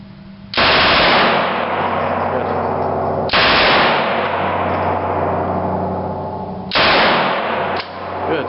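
A Lage M-11/22 submachine gun conversion firing full auto with Remington Golden Bullets .22 ammunition, three loud sustained bursts of rapid rattling shots separated by brief pauses, close to the microphone and without speech.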